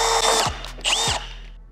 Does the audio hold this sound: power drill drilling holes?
yes